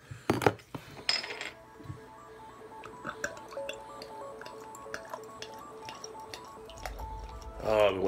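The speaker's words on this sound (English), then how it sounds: "I've been waiting all day just to hear that beer running down the glass like that." Samuel Smith Organic Pale Ale, a 5% ABV beer, is opened and poured into a glass. There are a couple of sharp clinks at the start, then a soft trickle and fizz, and a louder splashing gush near the end.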